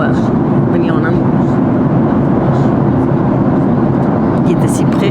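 Steady broadband engine drone of an airliner cruising in flight over the Landes, loud and constant throughout with a low rumble and faint talk mixed underneath.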